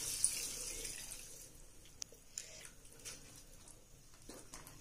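Spiced masala water pours into a pan of soya chaap masala, a steady splashing trickle with a few drips and small clinks, close and fairly soft, with no talking.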